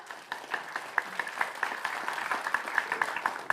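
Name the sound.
audience applause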